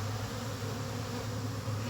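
Honey bees buzz in a steady, dense drone right up close while a beehive is opened and worked, with no voices over it.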